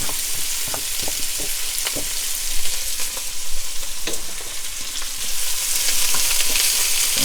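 Diced large onion hitting a hot pan for collard greens, a loud continuous sizzle and crackle with scattered stirring clicks and scrapes throughout.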